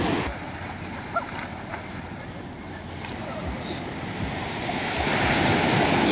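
Ocean surf breaks at Carrizalillo beach in Puerto Escondido, Oaxaca, Mexico, during a children's surf contest. It makes a continuous broadband roar with wind buffeting the microphone, swelling louder toward the end.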